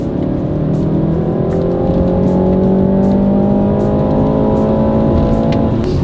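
A 2019 BMW 330i accelerating at full throttle from about 1,500 RPM, with a loud, steady engine drone whose tone climbs slowly and evenly throughout, heard alone without any talking.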